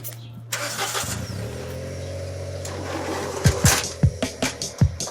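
A Go4 delivery vehicle on a New York City street starts up with a loud mechanical catch, then its engine idles and revs as it pulls away, with rhythmic thumps and rattles building near the end.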